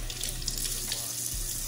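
A face cloth is soaked under a running sink tap, giving a close, steady rush of flowing water with light splashing throughout.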